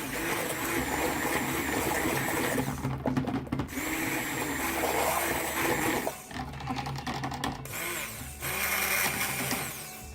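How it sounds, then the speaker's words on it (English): A hand-held stick blender whirs while mixing cold process soap batter, running loud and steady for several seconds with brief dips and restarts as the motor is pulsed. "we'll hit that one more time with the blender just to get that mixed in good"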